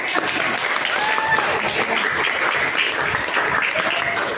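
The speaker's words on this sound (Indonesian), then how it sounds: "Ya, tepuk tangan." A classroom of schoolchildren claps together in steady, dense applause that fills the whole moment, close and lively with a faint murmur of young voices beneath.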